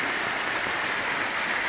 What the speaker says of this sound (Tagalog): malakas po yung ulan ngayon at saka yung agos ng tubig ay napakalakas